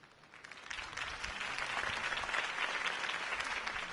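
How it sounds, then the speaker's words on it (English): Applause from a large crowd in a video game after a campaign speech for Harvey Dent, a dense, sustained roar of clapping that swells in and holds steady, loud and alone. "If only Mr. Wayne, my campaign's largest backer, could have heard that applause"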